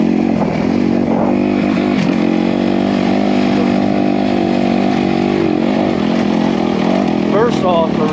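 A 2021 Honda CRF250R dirt bike engine runs loud and close on a first ride, a steady throaty drone with rising throttle surges toward the end.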